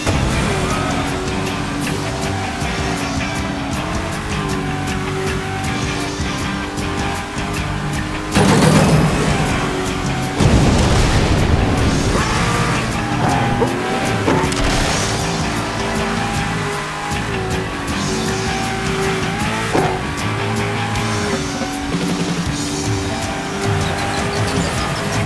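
Race cars roar and skid through a Cars 3: Driven to Win video game race, with a loud engine drone throughout and sharp tire squeals and crashes around the middle, layered over game music.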